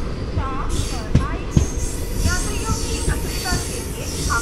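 The Vaigai Express rolls past on the opposite line at a station, a loud, steady rumble of wheels with clattering joints and high metallic squeals.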